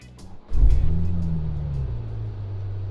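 The engine of a TOM'S-tuned Toyota Supra rises into a deep, rumbling rev after a short quiet start. It stays loud and steady for the rest of the moment, with no talking over it.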